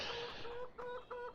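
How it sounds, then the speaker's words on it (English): Chickens clucking in the farming video game Farming Simulator 15, a few short, close, repeated clucks in quick succession with no talking. "We will see chickens running about."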